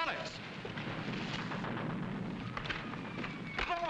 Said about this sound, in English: Somebody's using real bullets.